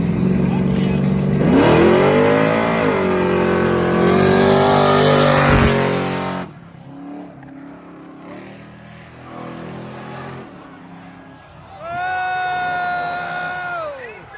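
Race cars launch at a spectator drag racing event, a loud engine roar revving and pulling away, then a quieter gap before another car revs hard near the end, with a crowd and voices around.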